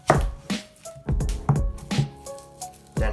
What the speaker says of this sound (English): For onion, basically want to cut this in like small chunks so it can blend well.